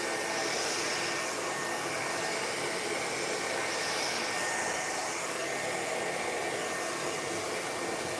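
A hair dryer blows steadily and loudly at close range while drying a man's long-on-top textured haircut, a constant airy roar with no talking over it.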